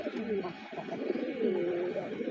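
Pigeons at a pigeon farm coo repeatedly in soft, rolling calls that overlap one another, close by against a quiet background.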